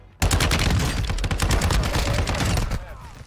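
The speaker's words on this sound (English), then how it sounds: "Hear them shooting." Rapid automatic gunfire in Call of Duty, loud and dense bursts starting abruptly and rattling continuously for about three seconds before easing off, no talk over it.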